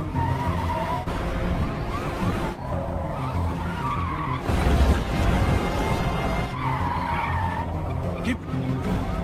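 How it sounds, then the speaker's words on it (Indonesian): Film car chase with tires squealing and skidding in sustained screeches over roaring engines, loud and close, with voices speaking over the action. "Kemudian terjadi aksi layaknya film Fast and Furious yang suka ngancurin mobil."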